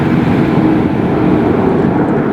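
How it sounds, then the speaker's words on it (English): A large SAS passenger airplane passes overhead near a construction site in Playa del Rey, Los Angeles, producing a loud, steady, low rumbling roar that holds throughout without a break. "Look at the size of that SAS plane."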